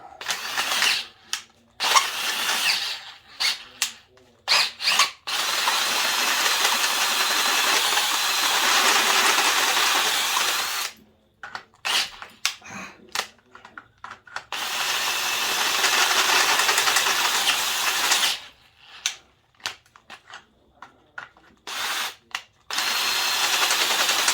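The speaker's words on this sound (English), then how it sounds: "I got the drill on slow because I think it's going to work better on slow." A power drill whirs at low speed in several long bursts while modifying a thermostat housing on a Honda K24-A2 engine, stopping and restarting with short pauses between runs.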